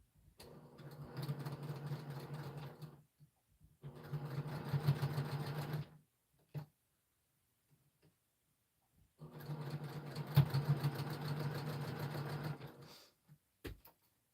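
A sewing machine stitches quilt pieces together in three bursts separated by pauses, a close, moderately loud whirring hum with a few small clicks between runs and no talk.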